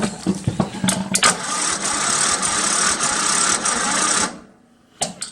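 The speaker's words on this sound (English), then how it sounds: "Got the snowblower working and got the place snowblowed out." A Craftsman snowblower engine cranks with a few rough sputters, then roars into a steady loud running drone before cutting out abruptly, with a couple of sharp clanks afterward.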